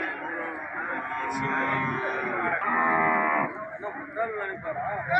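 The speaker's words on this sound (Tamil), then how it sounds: "வண்டி இழுவைக்கு இந்த மாடு ரொம்ப அருமையாகவே இருக்கும்" Cattle lowing at a busy livestock market in Erode, several moos overlapping in long drawn-out calls amid constant crowd chatter and background talk.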